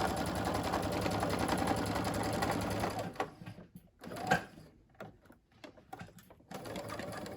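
A sewing machine stitches fabric for a face mask, first in a steady, continuous run of rapid needle clatter, then in short, stop-start bursts separated by quiet pauses.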